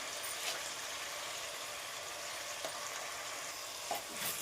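Dal rice khichdi being stirred in a pot, with a continuous close sizzle and a few soft scraping strokes of a spoon breaking through now and then, no voices.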